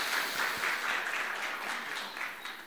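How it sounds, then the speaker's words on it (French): An audience claps after a documentary screening, a brief round of applause with audible individual claps swelling and fading in a moderate-sized room. "On peut l'applaudir peut-être."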